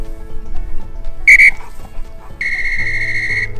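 Two piercing dog training whistle signals ring out close by during a waterfowl hunt, a short blast followed after a pause by a longer sustained one, over faint background noise.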